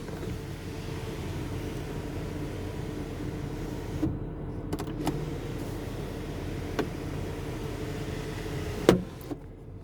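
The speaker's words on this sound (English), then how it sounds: "Sunroof." A sunroof motor in a 2012 Porsche Panamera Turbo S hums steadily inside the cabin, with a few clicks and a small thunk near the end as the roof mechanism stops.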